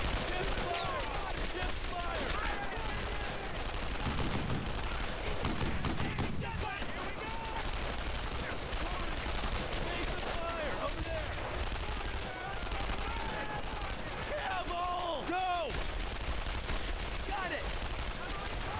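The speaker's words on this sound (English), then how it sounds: "It's an MG up there" Machine gun fire and other gunfire in the World War II video game Brothers in Arms: Earned in Blood form dense, continuous bursts and shots, loud and sustained, with voices speaking intermittently over the battle noise.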